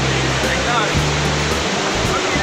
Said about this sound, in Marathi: इकडे पण मित्रांनो छोटंसं एक धबधबो हा